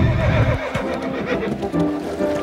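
A horse gives a loud, close neigh that rises and quavers, with hoof clops and shuffling around it.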